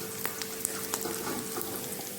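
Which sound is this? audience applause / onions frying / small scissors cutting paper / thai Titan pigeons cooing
onions frying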